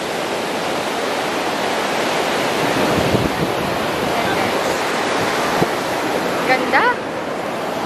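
Strong ocean waves crash on a beach in Bali, a loud continuous surf roar with wind buffeting the microphone, while a voice speaks briefly over it.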